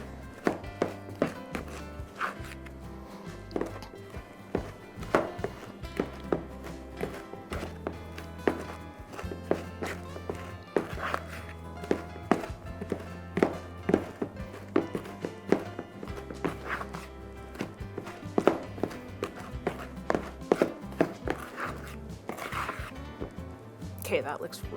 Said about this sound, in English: Just want to blend the butter in until it's coarse crumbs.